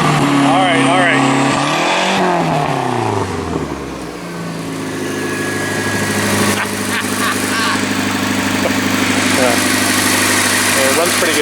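A 1982 Ford Capri MKIII engine runs steadily after a cold start on jumper-clamped battery, with a rev rising and falling early on before settling into a loud, continuous idle, voices talking over it.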